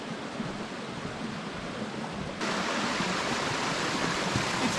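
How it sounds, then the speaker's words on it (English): A waterfall about four meters high in a gorge roars with a dense, steady rush of falling water, growing louder partway through as it is approached, with no voices. "So here is the first waterfall that is high 4 meters."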